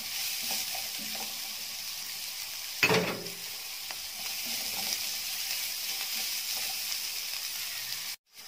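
Two sliced onions frying in a pan for a potato and meat tagine, a steady low sizzle with one louder scrape of stirring partway through before cutting off abruptly at the end.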